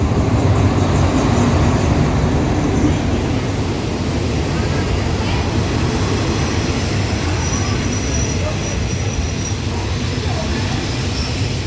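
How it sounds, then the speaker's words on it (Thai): A train arriving on the Pattaya–Bangkok line rumbles loudly and steadily close by, with wheel noise and faint high squeals of metal. "รถไฟมาแล้ว"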